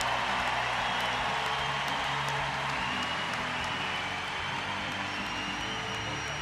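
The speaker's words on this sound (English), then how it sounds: "Well, listen to the applause." Sustained applause from a large crowd at a 2012 London Paralympics swimming final, greeting a British silver medalist; dense, steady clapping and crowd noise throughout, with no talk.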